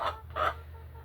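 Hens clucking in a backyard flock that includes a black copper Maran, two short bursts of fowl vocalisation over a steady low hum, fading to quieter background sound.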